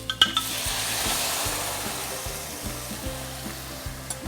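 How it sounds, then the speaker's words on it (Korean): Diluted sauce, rice cakes, fish cake, lobster, mussels and vegetables go into a hot pan for lobster tteokbokki, a rushing sizzle that swells and then settles into a softer bubbling simmer, with a few clinks of utensils against the pan. "희석한 소스랑 나머지 재료들 떡, 어묵, 랍스타, 홍합 그리고 나머지 반절의 야채를 넣고 끓여주시면 돼요"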